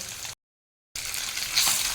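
Eggs fry in a pan with a bright, steady sizzle, close and crackling, briefly cut out by a short moment of silence before resuming.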